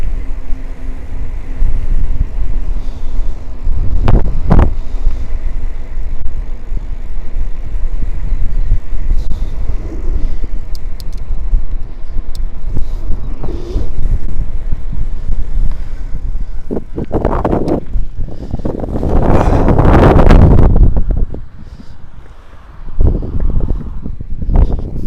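Wind buffeting the microphone while riding a mountain bike into a headwind, a steady low roar throughout with louder gusty bursts near the end, no talking.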